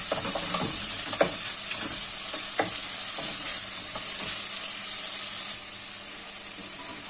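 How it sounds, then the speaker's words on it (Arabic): Chicken liver and gizzards sauté in a pan with a loud, close sizzle and crackle, along with scraping stir strokes and short bursts of spatter. The hiss quietens slightly near the end, and there is no speech. "هبدا احط الكبد والقوانص تاخد تشويحه كده بسيطه تغير لونها بس كده"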